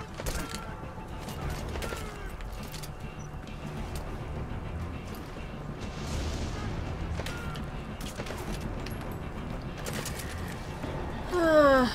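Gunfire and mechanical clatter from combat in the video game Metal Gear Solid V, dense and continuous, with sharp shots scattered over a busy rumbling background and a louder burst at the end.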